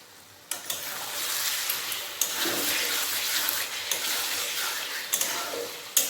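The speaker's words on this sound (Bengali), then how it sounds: "গরম মশলাটা দিয়ে একটু ভালোভাবে নাড়াচাড়া করে নেবো" Dhaba-style chicken curry with garam masala stirred in a hot pan: a continuous sizzle and fry, punctuated by several sharp clicks of a spoon against the pan.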